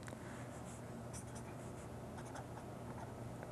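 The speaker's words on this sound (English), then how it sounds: "Let's write that again." Marker or chalk writing on a board during an electrochemistry lecture, a steady scratchy stroking that runs continuously over low room hum.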